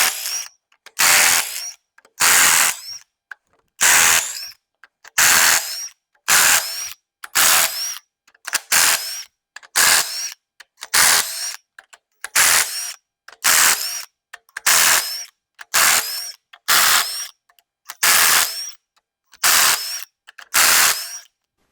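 Repeated bursts from a power tool, likely an impact gun, spin out cylinder head bolts on a junkyard 7.3L engine, about fifteen loud ratcheting whirs in a steady rhythm with short pauses between them, close up and with no talking.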